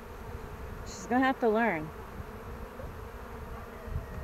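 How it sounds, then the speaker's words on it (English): A honeybee buzzes in a few short, close, rising bursts around a person during a beehive inspection, with quiet outdoor ambience and brief talk. "she's got a bee on her"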